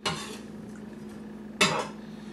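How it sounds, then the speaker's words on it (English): A knife cuts potatoes into chunks about 1.5 inches across for clam chowder, giving two sharp, close chopping clacks about a second and a half apart, with quiet between them. "And we're going to cut the potatoes."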